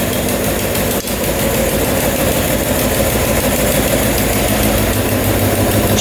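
A 750cc Suzuki Quadzilla quad idles up close, a steady, loud, even engine drone with a constant low rumble and no change in revs, with no talk over it.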